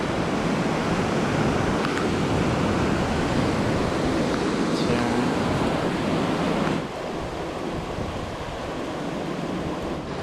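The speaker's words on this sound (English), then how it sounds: "Now it's a rapid and like the water is up to the rock." A swollen river runs in rapids up to the rocks after heavy rain, a loud continuous roar of rushing water that eases slightly partway through, with no voices.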